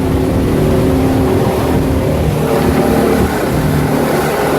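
The motor of a 2007 Prokat 2860 WA boat drones at a cruising speed of about 36, a loud, continuous rumble mixed with rushing water and wind noise that holds steady for several seconds.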